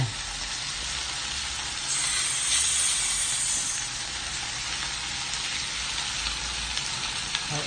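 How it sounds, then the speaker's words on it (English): Steady, close sizzling of hamburgers frying in hot bacon fat, a continuous crackling hiss with small pops and no voices. "There's the sizzle sound."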